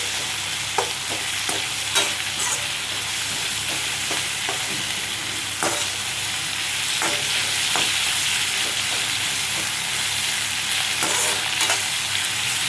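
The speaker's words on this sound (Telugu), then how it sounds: "ఇలా వేసేసి ఫ్లేమ్ పెద్దగా పెట్టేసి మంచిగా ఫ్రై అవ్వనిద్దాం." Salted food fries over a high flame, a loud, dense, continuous sizzle heard close up, with scattered crackles and the occasional stir scraping through it.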